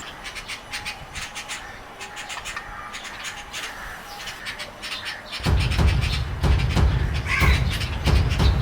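A crow caws repeatedly while red-vented and red-whiskered bulbuls chase it, the harsh calls getting louder and closer in the second half alongside scratchy rustling and sharp bird chirps.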